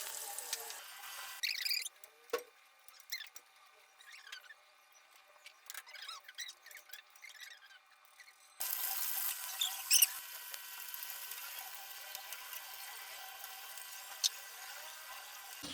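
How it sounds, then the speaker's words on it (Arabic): Potato pieces frying in hot oil while preparing Egyptian meatless moussaka, giving a close, steady hiss flecked with small pops and crackles that is softer at first, then jumps to a louder, denser sizzle partway through, with no talking. "اقلي اول حاجه البطاطس"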